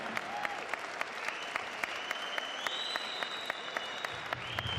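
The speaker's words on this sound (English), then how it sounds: "big round of applause to both fighters for a fantastic main event" An audience at a fight event's main event claps for both fighters, dense steady applause throughout with a few sharp individual claps and a faint whistle-like tone riding over it.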